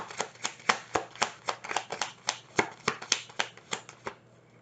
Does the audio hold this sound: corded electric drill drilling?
no